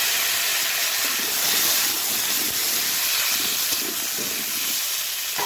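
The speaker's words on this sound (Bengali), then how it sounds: "আলুগুলো ঢাকা দিয়ে ভেজে নেব" Potatoes fry in oil under a lid with a steady, dense hiss and sizzle, continuous and fairly loud, with no voices.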